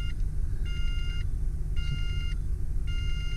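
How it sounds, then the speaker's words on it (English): A 1992 Ford E-150 Centaurus XL high-top conversion van gives an unexplained, recurring startup beep: three evenly spaced electronic beeps, each about half a second long, over the low rumble of the idling engine. "I'm not sure why it has this constant random beep, but it does turn off after a little bit."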